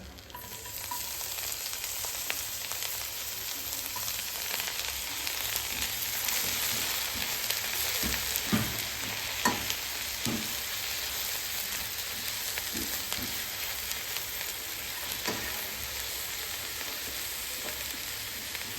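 Garlic frying in coconut oil for chilli chicken, a steady, close sizzle and crackle that holds for the whole stretch, with occasional stirring clicks.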